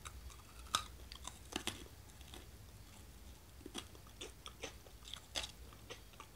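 Someone biting and chewing the crispy fried edge of an American corn dog, with quiet, close crunches at irregular intervals over several seconds and no talk.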